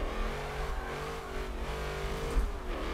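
A Camaro race car replica's engine revs steadily in Forza 7, a continuous loud, close drone that swells and eases slightly as the throttle is feathered, with no voices over it.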